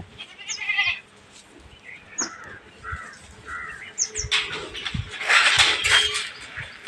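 Several goats bleat in turn, wavering cries spaced across the stretch with harsher calls mixed in, over a busy outdoor background.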